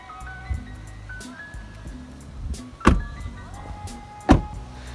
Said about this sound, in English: Let's close these doors.